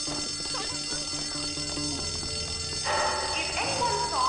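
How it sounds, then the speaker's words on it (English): A school fire alarm rings steadily in Bully: Scholarship Edition, a continuous bell-like tone over game ambience that gets louder partway through. "If anyone saw who pulled the fire alarm, please come to the office."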